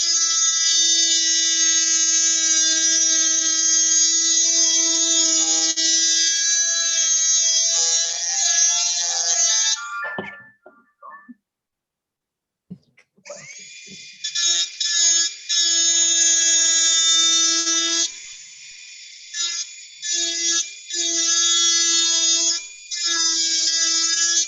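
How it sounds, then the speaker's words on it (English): A high-speed rotary tool with a carving burr whines steadily and close while working a gourd, dropping out briefly at mid-clip and then resuming in on-and-off bursts. "It's like a Dremel, but a little faster than a Dremel."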